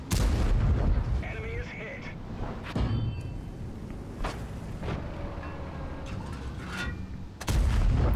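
Tank cannon shots boom in World of Tanks gameplay, several sharp heavy blasts spaced irregularly over a rumbling battle background, with a voice talking in between.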